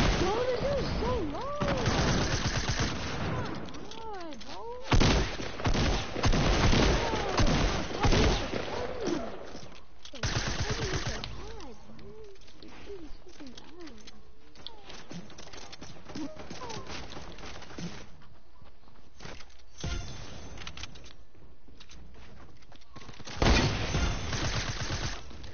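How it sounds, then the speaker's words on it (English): Gunfire from other players in a PS4 shooter game sounds as dense volleys and bursts of shots with booming impacts, continuous and loud, with people talking over the action throughout. "there's fucking other people shooting"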